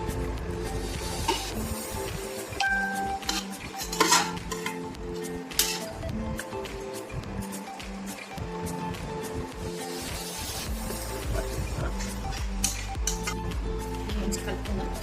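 A spoon clinks and scrapes against a pot while mango chutney is stirred, making irregular metallic taps and rubbing sounds under a person talking.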